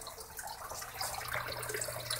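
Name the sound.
water pumped into aquaponic fish tank at high pressure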